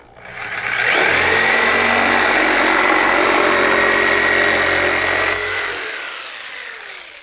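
A SKIL 6 amp corded jigsaw with a wood blade cuts through cedar, its motor rising into a loud, close, steady buzzing whine for about five seconds before winding down.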